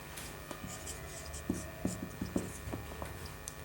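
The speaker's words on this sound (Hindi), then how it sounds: "तो चलिए हम लिखते हैं" Pen or pencil writing on paper while working a maths exercise on equivalent fractions, faint close scratches and taps in short irregular strokes over a low background hum.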